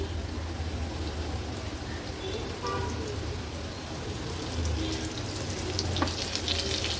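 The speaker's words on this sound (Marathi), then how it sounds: "आता एक एक करून आपण हे बोंबील तेलामध्ये सोडणार आहोत" Bombil (Bombay duck) fish frying in hot oil with garlic over a high flame, a steady close crackling sizzle with a low hum beneath and a few sharper pops near the end.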